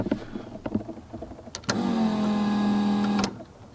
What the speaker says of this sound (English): when I turn the key, it should turn on the fuel pump, right? And you'll be able to hear it.